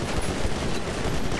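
Rapid, loud gunfire from GTA 5 roleplay, a dense continuous burst of shots packed close together with no pauses, heard alone.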